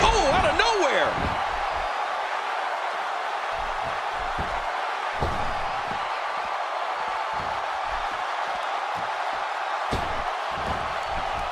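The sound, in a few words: wrestling match crowd cheering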